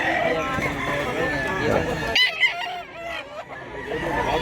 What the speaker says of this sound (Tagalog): Daghan dig manok mga idol.